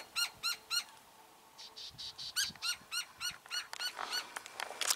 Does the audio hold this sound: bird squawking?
yes